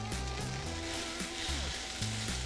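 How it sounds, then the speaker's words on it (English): Broccoli with garlic, salt and parsley sautés in a pan, making a steady, moderate sizzle under low background tones. "I will spice it up with a little garlic, salt, and parsley, my broccoli. And we will then saute this."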